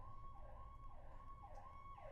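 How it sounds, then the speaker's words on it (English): Emergency vehicle siren wailing outside, a faint rising and falling tone that repeats about every second over a low background rumble. "I don't know if you heard that siren outside"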